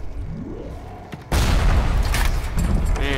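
In BioShock, a turret opens fire after a quieter stretch: loud, dense bursts of rapid gunfire arrive suddenly and keep pounding close by, with faint voices in the background.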